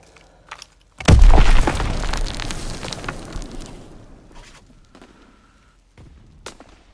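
Mortar fire and explosions in Call of Duty: WWII, a World War II shooter: one heavy, close boom hits loud, then a long rumbling tail fades over several seconds, followed by a few faint distant thuds.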